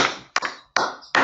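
Three short bursts of group clapping, each a quick flurry of hand claps separated by brief silences, close and crisp, ending abruptly.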